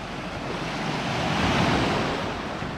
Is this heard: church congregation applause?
no